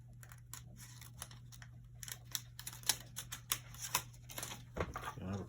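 Scissors trimming the edge of a postcard, a quiet run of crisp snips and paper rustles that turns denser and louder toward the end, close up, with no talking.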